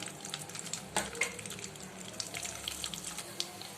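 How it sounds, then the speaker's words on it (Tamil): Whole spices are tempered in hot oil: cinnamon, bay leaf, cloves, cardamom and star anise. They sizzle and crackle softly in a pan close by, with a sharp pop near the start. No one speaks. "குழம்புக்கு தேவையான எண்ணெயை சேர்த்து பட்டை, பிரிஞ்சி இலை, 2 கிராம்பு, ஒரு ஏலக்காய், ஒரு அன்னாசி பூ சேர்த்து தாளிச்சிக்கலாம்"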